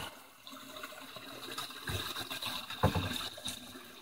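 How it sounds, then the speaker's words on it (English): Water pours through an angled PVC inlet into an aquaponic swirl filter, a continuous rushing, splashing flow with a few louder surges, no voices. "water comes in"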